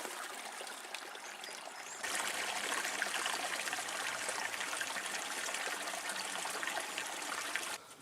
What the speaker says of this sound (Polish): trochę głębszy strumyk.